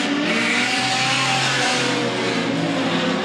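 Production sedan race cars racing at a Collie circuit, loud continuous engine roar and revving as cars pass close by, with no talk.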